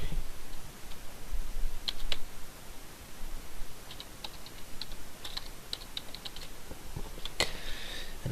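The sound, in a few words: typing on a computer keyboard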